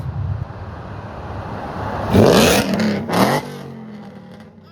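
A supercharged 2015 Ford F-150 with the 5.0 engine revs hard through its exhaust, two sharp loud bursts rising over a steady idle rumble, close by, then settling back down.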